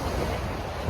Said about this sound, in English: anytime you hear moving water like this, it's just super exciting